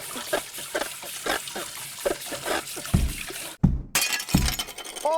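Good china dishes are smashed in a home kitchen in a rapid string of sharp crashes and clattering shards, ending in a loud burst of breaking crockery and ringing fragments.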